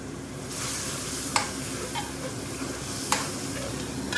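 Base gravy for a BIR-style curry sizzles steadily in a frying pan, with a couple of sharp metallic scrapes as it is stirred; continuous close frying hiss throughout.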